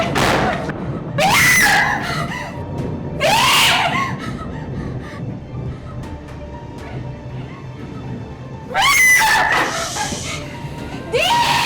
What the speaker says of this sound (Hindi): चिल्ला रही हो?